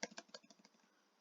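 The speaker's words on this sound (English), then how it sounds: "let me see if I can type here" Quick burst of keystrokes on a computer keyboard, about eight soft taps in a rapid run that fades out, quiet and close with no talking.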